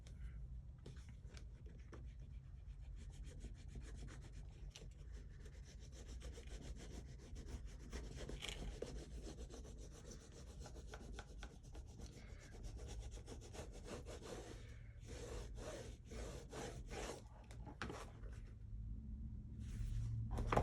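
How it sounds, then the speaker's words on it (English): Bone folder burnishing a book spine and covers during bookbinding, a soft continuous rubbing and scraping close up with rapid back-and-forth strokes and no talking. "I'm going to grab my bone folder and I'm going to burnish a lot."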